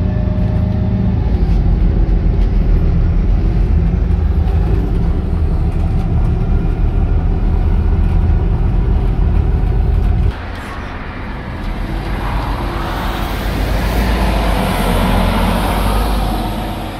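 Steady, loud rumble and road noise inside a Hunter Valley Buses Volgren Optimus bus on the move, continuous throughout, dropping briefly to a softer roar partway through before building again.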